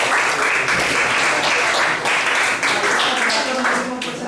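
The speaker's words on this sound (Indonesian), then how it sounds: "Tepuk tangan untuk pemberian." Sustained applause from a classroom audience after a student presentation in a teaching practice session, steady dense clapping filling the whole stretch at close range.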